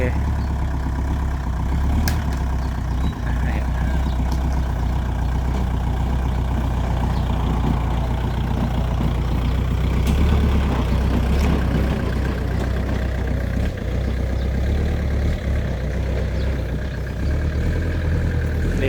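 Isuzu NPR 115 truck with an in-line injection pump diesel engine idling nearby, a steady low rumbling drone that continues throughout, with someone talking over it at times.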